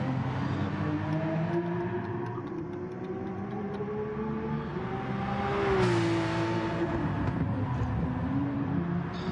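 A race car engine in a racing video game drones steadily as the car pulls out of the pits, its pitch rising and falling through gear changes with a louder swell midway, heard without talk.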